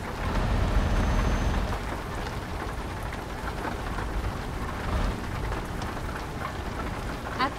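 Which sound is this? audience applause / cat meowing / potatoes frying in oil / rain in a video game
rain in a video game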